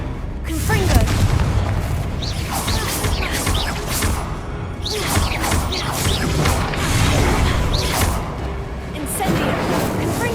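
Fire spell explosions from combat in Hogwarts Legacy, with repeated loud booms and whooshing blasts over dense battle noise, a voice calling out between hits.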